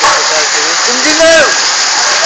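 Hail pours down in a dense, hissing roar that swells slightly heavier, while excited voices call out over the storm.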